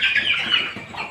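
Chickens at a poultry house holding Sonali and broiler breeds, giving a dense, continuous wash of clucking and squawking from a crowded flock, fairly loud and steady with no talk.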